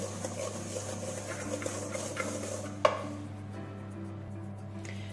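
Cornstarch being whisked vigorously by hand into pastry cream for a Paris-Brest, a steady close scraping and stirring that fades after a single sharp clink.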